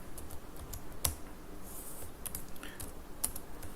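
Close computer keyboard typing of Angular code, a run of light, uneven key clicks with a few sharper taps, no voices.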